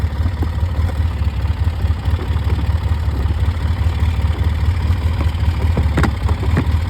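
A Polaris 700 ATV engine idles low and steady close by, a throbbing rhythmic putter holding an even pace with a few faint clicks and knocks on top.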